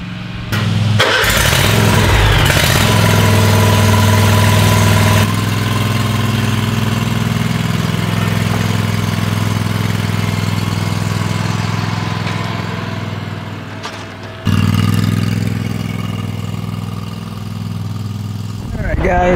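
A Predator Pro small gasoline engine starts with a brief rough catch, then settles into a steady, loud mid-pitched idle that holds for most of the stretch, dipping briefly before resuming, with faint voices in the background.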